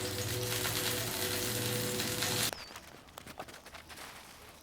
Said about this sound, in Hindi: और पराठे के ऊपर घी लगाते जाएं।